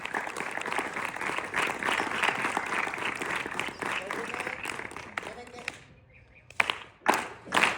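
Audience clapping at a Republic Day gathering at a Vedic gurukul, a dense burst of applause with voices mixed in, then fading into a few scattered claps and thumps near the end.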